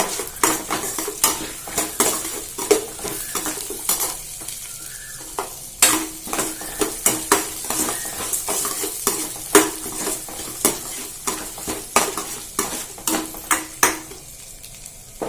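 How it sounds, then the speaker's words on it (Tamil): Chillies, cumin and urad dal sautéed in a pan, with a soft sizzle beneath repeated sharp metallic spoon scrapes and taps against the pan, close and rhythmic, with no talking. "இந்த மிளகா, ஜீரகம், உளுத்தம்பருப்பு தட்டில் எடுத்துகிட்டு வச்சிருந்ததெல்லாம் போட்டிருக்கேன் நான். ஸோ இதை வதக்கிக்கலாம்."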